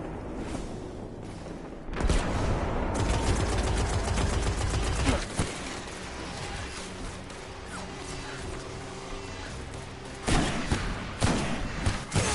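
Heavy booming blasts from cannons in the video game Destiny 1, a loud burst around two seconds and another near ten, amid dense rumbling gunfire and game music.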